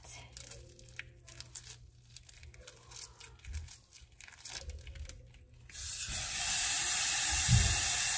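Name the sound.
ground meat browning in a pan for tacos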